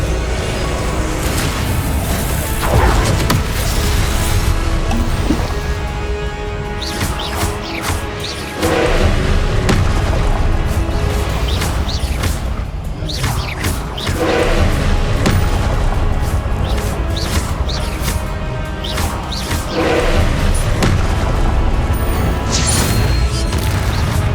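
Repeated booming spell blasts and crashes from combat in Hogwarts Legacy, loud and dense throughout, with whooshes and impacts layered over continuous game noise.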